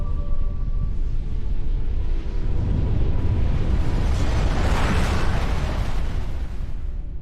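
A Halo 3 frigate's weapons fire in a modded video game, heard as a dense, sustained roaring blast with booming explosive bursts layered over music and ambience, loud and continuous throughout.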